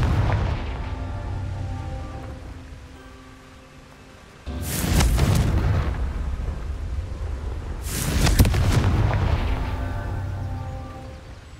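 Two heavy booming blasts from the Confringo fire spell in Hogwarts Legacy, each a sudden loud burst that rumbles and fades over a few seconds, spaced several seconds apart after a quieter lead-in.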